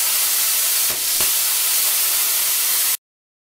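A home-built CNC plasma cutter, converted from a desktop laser, cutting parts: a loud, continuous rushing hiss that holds steady for about three seconds, then stops abruptly.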